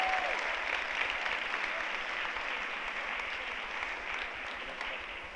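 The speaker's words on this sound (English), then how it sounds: "So clap it out for these two." Audience applause for two people at a keto group talk: a dense, steady wash of many hands clapping, loud from the start and slowly easing over a few seconds, with no voices over it.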